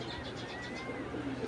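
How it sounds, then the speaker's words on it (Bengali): Old-breed domestic pigeon cooing softly in a steady, low murmur, close by, with faint rustling in the background and no talk. "এই হলো অরিজিনাল পুরান জাতের কবুতর"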